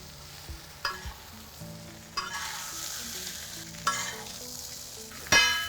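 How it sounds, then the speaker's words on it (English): Mutton pieces fry on a tawa in a steady close sizzle, broken by a few clanks and scrapes of a spatula stirring the meat, with a louder sharp hiss near the end. "fry the mutton pieces also in the same pan"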